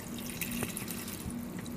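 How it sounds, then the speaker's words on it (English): Canned chicken broth poured into a cooking pot for white chicken chili, a steady liquid splash and trickle heard close up for a couple of seconds, with a faint background hum. "You're going to go ahead and add your 2 cans of chicken broth."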